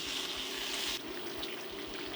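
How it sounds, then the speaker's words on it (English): Butter chicken sauce bubbles and simmers in a pot, a steady wet, gurgling hiss running without a break, close and fairly even in level, with a slight dip in brightness partway through. "It's been bubbling here."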